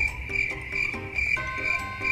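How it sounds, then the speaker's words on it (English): A cricket chirps in quick rhythmic pulses, a high steady trill repeating several times, fairly close and alone. "Insects known for their chirping sound. They start singing at night, defining the sounds of summer nights."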